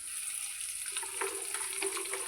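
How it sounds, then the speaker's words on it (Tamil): Chopped onions sautéing in oil in a pan for a Tamil pirandai thuvaiyal, a soft steady sizzle with light stirring scrapes, close and moderately quiet, no talking. "வெட்டி வச்ச வெங்காயத்தை நல்லா போட்டு எண்ணெயில் போட்டு நல்லா வதக்கணும்"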